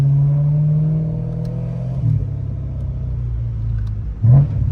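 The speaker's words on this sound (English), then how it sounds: "BMW's Notorious V8." A BMW M3 with an S65 V8 engine idles with a deep, rumbling burble, then blips into short revs, rising briefly before settling back to a steady throaty idle.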